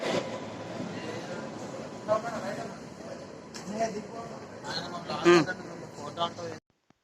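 A train pulls into a railway station in Visakhapatnam. Steady rumbling rolling noise with a few louder clanks and bumps near the microphone, with voices murmuring underneath throughout.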